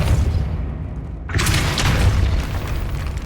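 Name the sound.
Depulso spell cast in Hogwarts video game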